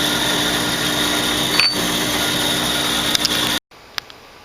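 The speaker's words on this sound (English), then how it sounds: "Now I'll have to cut this end. I've got it marked there where I need to put my groove for the spring." A power tool grinds a groove for a spring into a metal part for a 1914 Dodge Brothers T-bucket roadster, making a steady, loud, continuous whine with a few brief ticks before cutting off abruptly.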